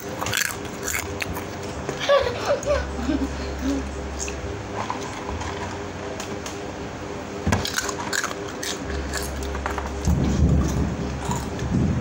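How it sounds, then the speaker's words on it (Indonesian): A low rumble of thunder rolls in the background while people talk nearby, with some close crunching and handling noises. "Ada suara petir guys."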